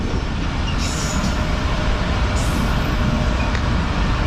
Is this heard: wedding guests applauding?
no